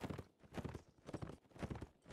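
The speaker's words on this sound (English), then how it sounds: "There's a horse out there." Cavalry hooves clip-clop in a Mount & Blade linebattle, in rhythmic bursts of hoofbeats at moderate distance, fairly faint, with no talk.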